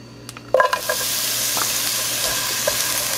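Onions dropped into hot oil for a Mexican poblano and cheese dish burst into a loud sizzle that settles into a steady, close frying hiss.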